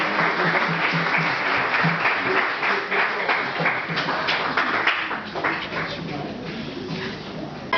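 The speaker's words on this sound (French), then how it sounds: "Acclamons très fort le Seigneur pour nous." Church congregation applauding the Lord, a full, continuous wash of many hands clapping that carries on for several seconds, with some muffled voices mixed into it.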